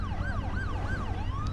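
An ambulance siren wails in a steady repeating up-and-down sweep in the Driver: San Francisco video game, loud and close over a low engine rumble, with no talk.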